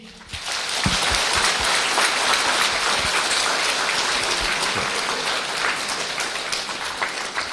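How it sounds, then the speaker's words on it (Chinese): Warm applause from a university audience at Shandong University of Technology fills the hall as a dense, continuous wash of clapping that holds steady for several seconds, with no talk over it. "让我们以至诚感恩的心和热烈的掌声对索达基堪布表示衷心的感谢"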